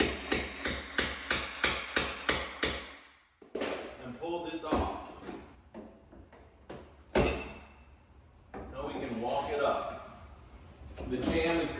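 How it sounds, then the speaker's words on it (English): A hammer drives a pry bar behind interior door casing, first as about ten evenly spaced, ringing metallic strikes, then as creaks and scraping while wood is pried loose, with someone talking over the later part. "Hammer and my trusty super bar. We're gonna get behind the casing here."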